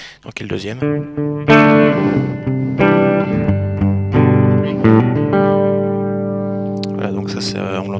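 An electric guitar run through effects with distortion and reverb plays a riff, a few picked notes ringing into sustained chords, loud and close with no voice over it.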